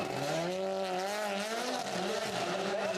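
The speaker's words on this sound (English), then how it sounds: "You hear him just balancing the car on the throttle" A WRC rally car at Rally Latvia is held on the throttle through a corner, its engine howling loud and steady with wavering pitch as the tires scrabble on the surface.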